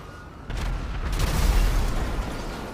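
Rocket explosions in a video game: a loud, deep booming blast that hits suddenly and rumbles on, with a second burst soon after, heard alone without talk.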